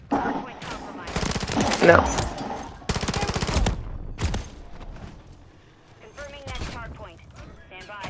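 Call of Duty gunfire comes in rapid automatic bursts, loud and rattling, broken into two long strings and a few shorter volleys, with someone talking briefly between shots and in-game voices underneath.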